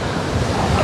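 Waves washing onto a beach at Kuta, Bali, at night: a brief, loud, continuous rush of surf with some wind buffeting the microphone.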